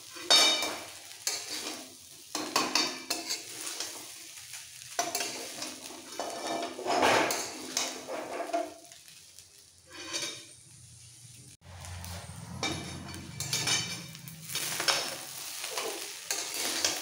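Veg fried rice being stirred and tossed in a hot pan, with steady sizzling and frying under repeated scraping of a spatula and clinks of utensils against the metal, close up with no talk.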